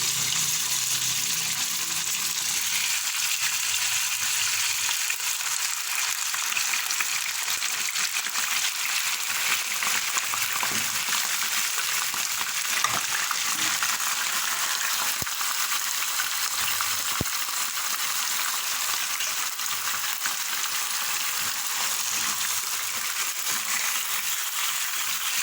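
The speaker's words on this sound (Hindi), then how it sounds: "अब मैं इसके अंदर डालूँगी गोश्त, और गोश्त को हमें बहुत अच्छी तरह से दरमियानी आंच पर फ्राई करना है।" Beef frying in a pan over medium heat for a qorma, a steady close sizzle with faint crackles running continuously, alone without talk.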